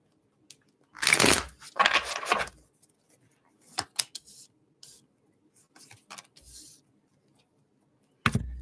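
Tarot cards shuffled by hand, a close, papery burst of riffling for about a second and a half, followed by scattered light taps and clicks as the deck is handled, with no talking.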